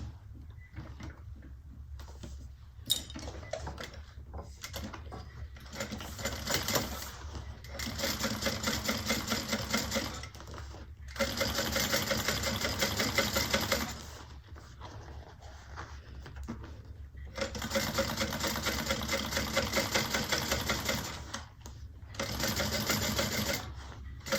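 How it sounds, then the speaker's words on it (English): A sewing machine topstitches a handbag seam onto its base, running in four steady bursts of several seconds each with short pauses between, close and clear with no talk. "we're going to top stitch onto the base"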